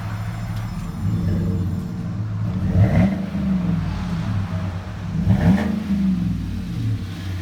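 A 2016 Chevy Silverado Z71 with Flowmaster Super 40 dual exhaust idles with a deep burble, then revs sharply twice, each throttle blip swelling and falling back, recorded close with no voices.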